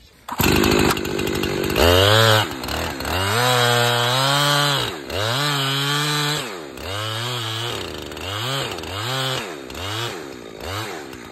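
Chainsaw making the back cut while felling a tree, loud and close, with the engine revving hard and bogging repeatedly as it bites into the wood, giving a rising and falling whine throughout.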